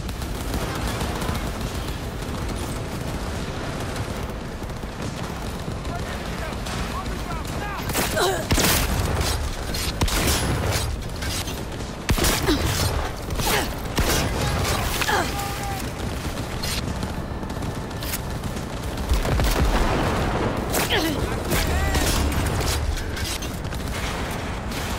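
Gunfire from a powerful gun in the game Cyberpunk 2077, with bursts of loud shots standing out over a constant busy backdrop of game sound and talk.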